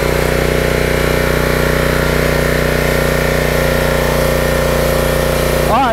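A small gasoline engine on a pressure washer runs steadily and loud, a continuous close drone throughout as the pressure is turned up.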